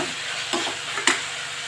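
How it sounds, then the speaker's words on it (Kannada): Tomatoes fry in a pan for a poori and Bombay saagu dish, a soft steady sizzle broken by a few quick stirring scrapes, close and with no voices. "ಟೊಮೊಟೊ ಬೆತ್ತಗಾಗೋವರೆಗೂ ಇದನ್ನು ಫ್ರೈ ಮಾಡ್ತೀನಿ"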